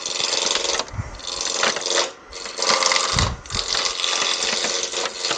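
A woodturning lathe spins up toward about 13,000 RPM, giving a loud, steady broadband whir that dips briefly a couple of times before holding its roar.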